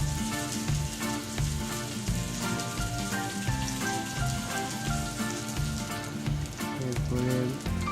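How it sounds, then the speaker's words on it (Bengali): Chopped onions sizzling in hot mustard oil for a hilsa curry, a loud, continuous crackling fry with bright spattering pops throughout, close and steady, no voices. "এবার দিয়ে দিচ্ছি পেঁয়াজ কুচি।"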